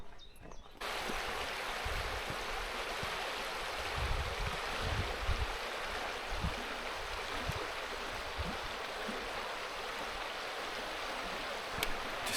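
The River Dove in the Derbyshire Dales flows steadily beside a walking path in Wolfscote Dale, a continuous broad rushing wash of water close by with occasional low thumps.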